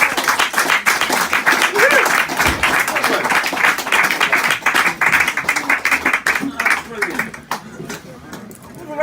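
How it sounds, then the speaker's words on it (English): Audience applause at a spoken word poetry night in Brighton, a dense crowd clapping loudly and steadily and then tapering off toward the end, with chatter mixed in. "A round of applause for Jilliana there, please."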